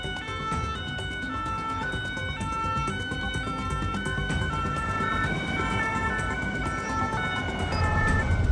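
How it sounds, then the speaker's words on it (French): A French gendarmerie police car siren wails continuously on a motorway, its alternating tones loud and close over rushing traffic noise, growing slightly louder toward the end. "Le gyrophare et la sirène des gendarmes qui retentit derrière lui ne l'arrêtent pas."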